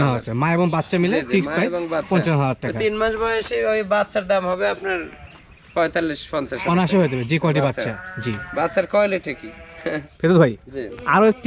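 Nepali Haryana goats on a goat farm bleat repeatedly in wavering cries, close and loud, while people talk over and between the calls.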